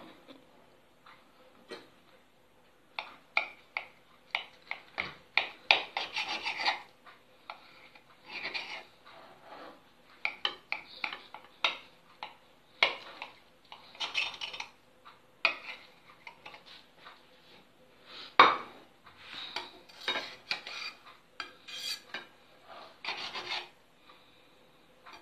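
A knife cuts through a sausage and cheese omelette on a plate, giving a run of light scraping and rasping strokes with small clicks of utensil on dish, close and fairly quiet with no talking.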